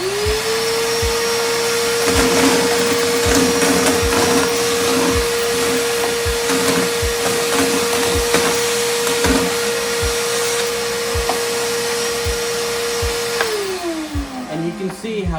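A shop vac roars steadily while sucking up a brown paper mess, a loud continuous whine with rattling debris, then the motor winds down at the end.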